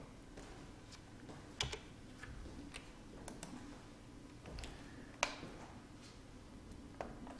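Keys tap on a computer keyboard in a quiet room while a number is entered into CAD software, producing a few soft, sparse clicks with occasional sharper strokes and no talking.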